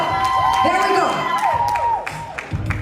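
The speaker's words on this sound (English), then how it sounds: "Please give the gentleman a round of applause" An audience at a Mr. World Jamaica coronation pageant claps and cheers, with whoops and shouting voices rising over steady applause, loud and close with a crowd-filled ambience.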